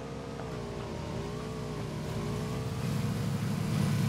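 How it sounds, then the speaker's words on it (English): A car engine in a video game hums and revs steadily as the vehicle passes, its pitch wavering and the sound growing slightly louder toward the end. "I hear a car."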